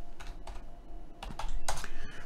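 Someone types on a computer keyboard, a short close burst of uneven key clicks and taps with no voice.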